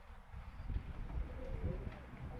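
Pigeons coo softly at a Turkish loft, with low throaty calls close by and someone talking over them.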